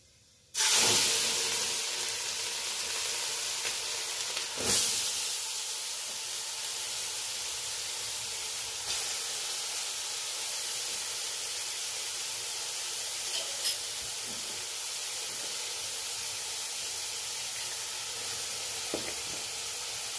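Carrots sizzling in hot ghee with cardamom and cinnamon for gajar halwa, a steady loud frying hiss that begins abruptly as they drop in, with a few faint clinks and stirs.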